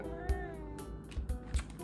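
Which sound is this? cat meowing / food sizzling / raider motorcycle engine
cat meowing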